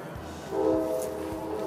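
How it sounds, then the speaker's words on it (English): An Amtrak train horn sounds from a distance over hilly parkland in Griffith Park, a steady tonal blast swelling up partway through and holding at moderate level to the end over a low background rumble. "There goes the train whistle."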